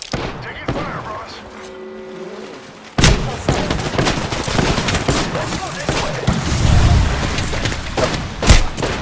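Gunfire from the Apex Legends battle royale game, playing as Bloodhound: after a quieter stretch with a voice, loud bursts of shots and booms break out and continue in a dense, uneven volley.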